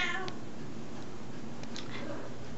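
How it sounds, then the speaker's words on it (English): A domestic cat meows indoors, close and fairly clear, with a couple of short calls over faint room noise. "That's my cat."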